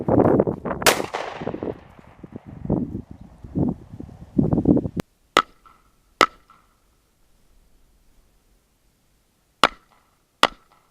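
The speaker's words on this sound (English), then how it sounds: "After I make my shots from my kneeling position, from my knees" Four sharp gunshots fired from a kneeling position ring out one at a time with long pauses between them, loud and close, after a stretch of shuffling and rustling movement.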